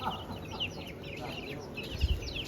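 Young chicks chirp in a farmyard near pigeon coops, with repeated high, thin peeps fairly close by over faint background noise, and a brief low thump near the end.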